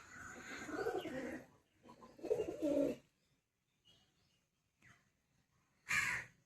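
Pigeons call in short bursts while feeding on rice at midday, two longer stretches of cooing early on, then faint scattered calls and one brief loud call near the end, close by with no talk.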